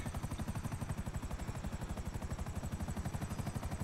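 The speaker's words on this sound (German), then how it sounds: "Ich denke die ganze Zeit bei diesem russischen Helikopter, dass er gleich irgendwie anfängt mit Raketen zu schießen." Russian helicopter in the game GTA V Online, its rotor chopping in a steady, fast, loud rhythmic pulse throughout with no talking.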